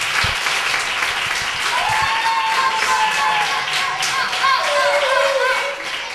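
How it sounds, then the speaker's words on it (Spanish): A crowd at a youth football team's season-closing ceremony claps steadily and loudly throughout, a dense patter of many hands with a few whistles or cheers mixed in. "Un aplauso"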